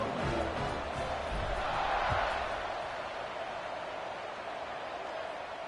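A football stadium crowd roars in a steady, broad wash of distant cheering that swells slightly near the middle and holds without talk.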